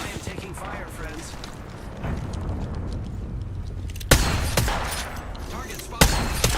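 Video game gunfire: a sharp, loud burst of shots cracks in after a stretch of rumbling background action, then a second burst follows shortly after, with faint muffled voices underneath.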